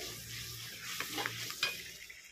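A soft sizzle of onion, ginger and garlic frying in a pan, with a few spatula scrapes and light clinks against the pot.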